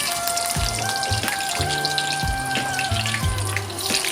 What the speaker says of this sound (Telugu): ఇవి కొద్దిగా వేగాక ఉల్లిపాయ ముక్కలు వేసుకోవాలి